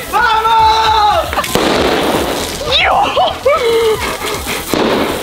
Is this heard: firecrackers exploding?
yes